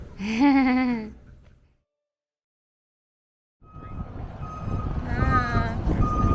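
A small tequila tour bus, the Cantarito bus, reverses with a steady, repeating electronic beep, heard after a brief voice and a pause, over a rumble of engine and street noise.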